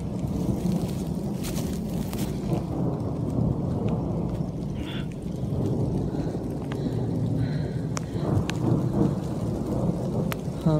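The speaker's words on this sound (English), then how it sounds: "The storm is getting mad." A thunderstorm roars with heavy rain pouring on surfaces and deep, continuous rumbling thunder, loud and close throughout, with no voices.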